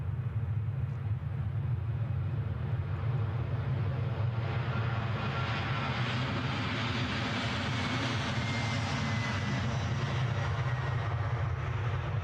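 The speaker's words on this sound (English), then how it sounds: "We'll just ride in with this EasyJet whilst we await its sister aircraft, still in the early part of finals." EasyJet airliner on final approach at Edinburgh airport, a continuous deep engine roar with broad rushing noise, steady and unbroken throughout, heard from the ground at moderate distance on a damp day.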